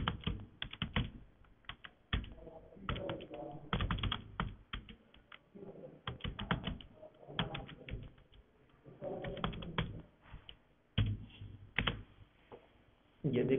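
Keys clatter on a computer keyboard as a sentence is typed, in quick irregular bursts of clicks separated by short pauses, fairly close and quiet.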